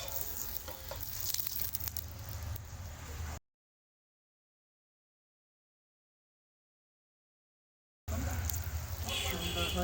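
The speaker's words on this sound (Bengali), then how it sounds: "এভাবে এক এক করে পরোটাগুলো আমি ভেজে নিচ্ছি।" Aloo paratha frying in a pan, a close, continuous crackling sizzle that cuts out completely for several seconds in the middle, then returns just as busy.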